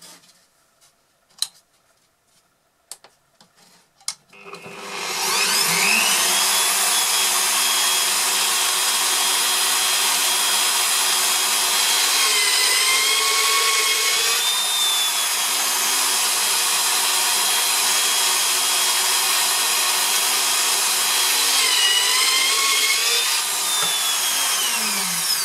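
A drill with a Forstner bit bores holes into wood while building a DIY TV wall mount, a steady loud whirring grind that runs continuously for about twenty seconds after a few soft handling clicks at the start.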